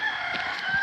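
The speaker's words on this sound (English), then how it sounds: "as you can hear from the cockerel crowing" A cockerel crows once at about seven in the morning in a Lao river town, a short, fairly loud call that stands alone with no talk over it.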